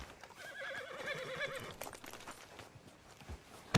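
Horse in the Red Dead Redemption 2 video game gives a clear, wavering whinny near the start, followed by hoof clops and rustling noise, with a sharp knock at the end.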